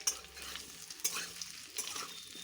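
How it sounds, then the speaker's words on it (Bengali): Potatoes are stirred in a frying pan with a quiet sizzle and a few scraping, clinking strokes of a spatula against the pan. No one speaks. "আলুটা নেড়ে নি"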